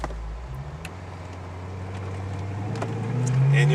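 A 2004 Maserati Cambiocorsa Spyder engine pulls away gently, its low hum rising steadily in pitch and loudness as the car accelerates from first gear.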